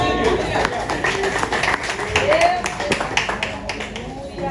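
A church congregation applauds, with scattered claps mixed into a murmuring crowd and voices speaking over the clapping at moderate volume.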